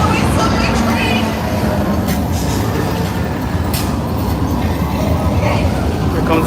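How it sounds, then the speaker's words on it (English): A runaway subway train effect at a Universal Studios Hollywood attraction: a steady, loud rumbling roar with rattling clatter, sustained throughout, and faint voices under it. "that sounds a lot like a runaway subway train"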